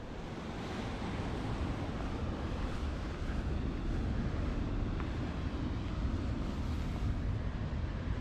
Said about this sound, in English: It's not until you're right beside the sea that you realise like the quantity, the power of the water.